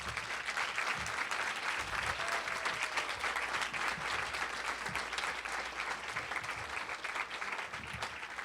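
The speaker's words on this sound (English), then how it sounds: "I would like to give them all a round of applause." Audience at an annual women's achievement awards ceremony applauding the standing recipients, dense steady clapping from a large crowd, sustained throughout.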